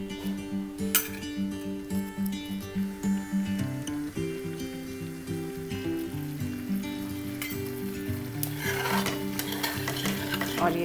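Malai paneer gravy thickening in a pan, stirred steadily with a spoon scraping the metal while a soft sizzle and bubbling run underneath, close and continuous with no talking.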